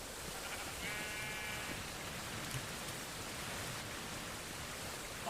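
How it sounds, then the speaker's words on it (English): Heavy rain pours steadily and loudly, a dense unbroken hiss close to the microphone, with a brief bleat-like animal call rising above it early on. "I wish the rain would stop because"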